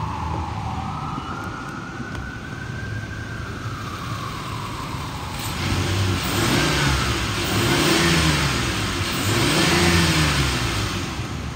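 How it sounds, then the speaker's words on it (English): A 2010 Ford Explorer XLT 4x4 with the 4.0L engine, 54,000 miles, idling steadily, then revved loudly in several rising and falling surges, close and clear with no talking. "I'm gonna rev up the motor so you can hear it."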